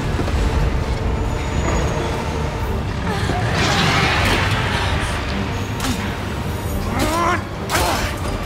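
Train carriages rattle and creak along the track in the Resident Evil 2 video game, a steady loud mechanical rumble with metallic squeals near the end and a voice talking over it.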